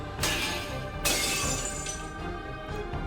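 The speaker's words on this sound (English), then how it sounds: "Built like a crystal, it cannot even block one of the showering weapons and shatters into pieces." A glass-like crystal shield in a video game shatters into pieces, struck by a shower of weapons: two bright crashing bursts of breaking glass, the second heavier, with tinkling shards ringing on afterward, loud and with no talking.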